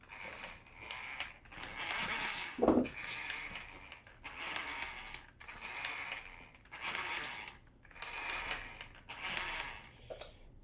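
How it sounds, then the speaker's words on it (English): A Traxxas Slash 2WD RC car gearbox making an odd, rhythmic grinding whir that pulses in repeating bursts about every second and a half, with one sharp clack early on. "The gearbox making the weird sound after yesterday test drive."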